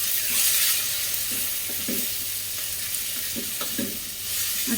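Aloo methi bhaji of potatoes and fenugreek leaves is stirred in a pan, giving a steady sizzle with a few soft scraping strokes of the spoon, close and even throughout with no talking.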